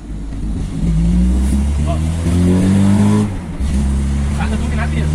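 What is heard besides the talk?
car with motorcycle carburetor accelerating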